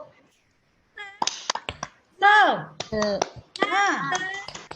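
A primary school class performs the tepuk semangat clapping chant, children's voices calling out in rhythm punctuated by sharp, close claps in short bursts after a brief quiet start.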